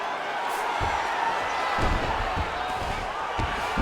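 A steady roar of arena crowd noise from the EA Sports UFC 5 video game fills the whole stretch, with a few dull thuds and slams landing over it.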